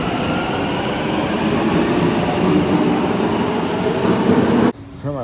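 An Istanbul metro train on the M6 line runs with a loud, steady rumbling roar from inside the car, then cuts abruptly near the end to quieter station-like sound.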